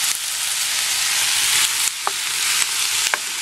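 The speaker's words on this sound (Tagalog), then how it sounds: "lutuin natin dito sa cooking oil" Chicken gizzards fry in cooking oil with a loud, even sizzle close by, broken by a couple of sharp utensil clicks against the pan.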